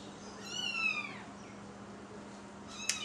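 A cat gives a single drawn-out meow, close and clear, over a steady low room hum, followed by a brief sharp tick near the end.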